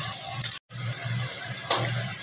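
Hot water pours into mutton cooking in a pan for mutton do pyaza, giving a short splashy gush, a brief gap, then a steady sizzling hiss.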